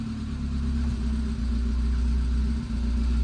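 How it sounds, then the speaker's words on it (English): Saab 900 Turbo engine, a project car with a lifter tick, idling steadily with a low, close, even rumble and a slight dip near the end. "now it seems to be idling fine"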